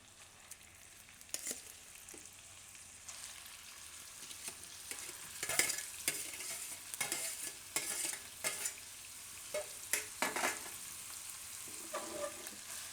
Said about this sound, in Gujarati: આને આપણે થોડીક વાર ઘીમાં શેકાવા દેશું હલાવતું રહેવાનું એટલે ચોટે નહીં